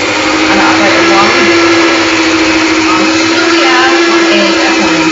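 An electric mixer runs on low speed, beating lemon drizzle cake batter, giving a loud, constant motor whine that holds steady throughout without pause.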